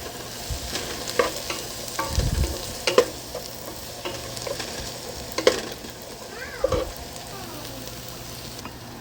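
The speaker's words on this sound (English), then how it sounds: "I feel like it needs a little bit more oil just to get the sizzle process up" Onions and peppers frying in oil in a stovetop pan, a soft steady sizzle with occasional stirring scrapes and clinks close by, no talking.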